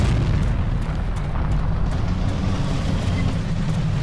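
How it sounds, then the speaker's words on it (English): Artillery shelling in the WWII video game Forgotten Hope 2 on the Arad map, a continuous heavy low rumble of explosions and booming that fills the whole stretch, loud and close with no clear breaks. "Watch out for Archie shelling my position"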